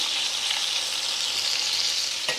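Butter melting on top of a hot carnivore burger patty sizzles in a steady, dense hiss, close and fairly loud, with one brief crackle near the end and no talk.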